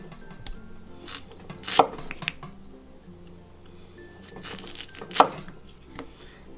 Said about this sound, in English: I'm gonna cut these into slices, about 1/4 inch.